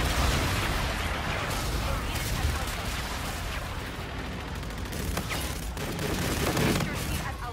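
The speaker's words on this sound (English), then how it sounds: "Friendly bombardment incoming." A friendly airstrike bombardment in the Infinite Warfare multiplayer beta pounds down as a dense, continuous barrage of booms and rattling gunfire, loud and close throughout with brief crackling bursts.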